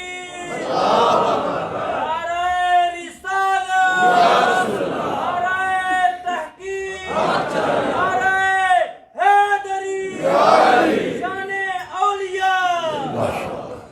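A large audience at a religious gathering chants slogans in unison, with loud, rhythmic call-and-response waves repeating several times and swelling and fading between rounds.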